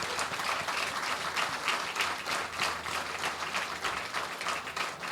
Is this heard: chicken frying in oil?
no